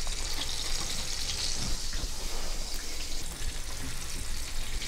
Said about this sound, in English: I'm going to set it up on its side and let it brown on that side